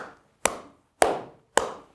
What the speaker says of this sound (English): basically when I clap